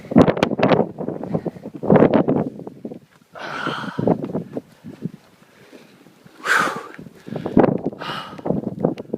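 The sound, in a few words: wind on Mt. Washington summit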